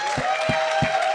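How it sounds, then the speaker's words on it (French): Audience applause from a studio crowd at a French-language talk show, a short steady wash of clapping with voices mixed in. "une bonne main d'applaudissement pour"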